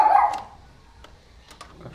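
A Great Pyrenees dog gives a loud bark up close at the start, then a few fainter short yips and barks follow over a quiet background.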